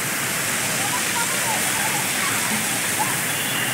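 A waterfall roars with a steady, dense rush of falling water that fills the whole clip without a break.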